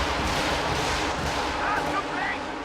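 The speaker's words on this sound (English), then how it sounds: "Oh, this is a great time for him to have rockets ready. He's going to fire them." A Stuka unleashes a rocket barrage in a real-time strategy match, heard as a dense, continuous rumble of launches and blasts with no clear gaps, under a commentator's voice.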